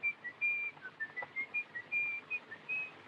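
A faint, thin whistled tune of short and held notes from the 1931 film M, distant and quiet, against soft background hiss.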